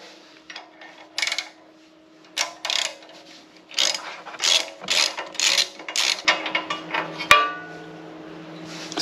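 A ratchet wrench clicks in irregular bursts of quick ratcheting strokes while a spark plug is removed from a small engine during homestead repairs, close and loud with short pauses, ending in a sharp metallic clank.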